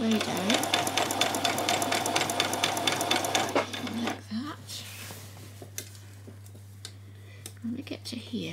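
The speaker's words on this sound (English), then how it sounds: "I'm going to come down here now and sew all across the placket" A sewing machine runs steadily across a skirt's continuous placket for about four seconds with a dense rapid stitching rattle, then stops, leaving quiet room tone with a few faint handling sounds.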